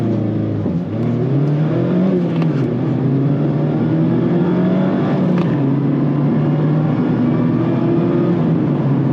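A 2024 Mazda MX-5 Miata RF Grand Touring hard-top convertible accelerates under steady load, its engine drone rising gradually in pitch with a brief gear change early on, heard loud and continuous from inside the car.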